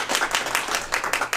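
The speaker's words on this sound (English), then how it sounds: "let's give Miss Kalia Matthews a big round of applause" Audience applause for a pitch presenter on a Shark Tank-style stage, a short burst of close, lively clapping with uneven rhythm.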